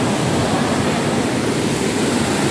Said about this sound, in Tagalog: May mga pinagtunawan ng yelo kaya ganyan kabil ng agos.